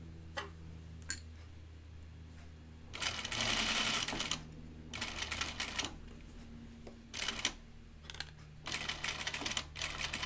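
A sewing machine stitches a dress hem in quick rattling bursts, starting and stopping several times with pauses between runs, close and fairly quiet.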